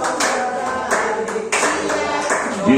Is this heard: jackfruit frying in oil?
no